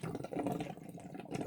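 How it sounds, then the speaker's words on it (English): Water gurgling as it drains out the front of an open outdoor hose bib tap during winterizing, a steady close churning flow with bubbling that runs throughout without talk. "That's draining the rest of the water out the front of the tap."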